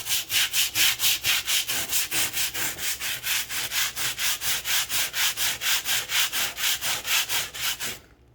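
A gloved hand scrubs dirty tile grout coated with cleaner, making fast, even back-and-forth brushing strokes, roughly three per second, close and loud, stopping abruptly at the end.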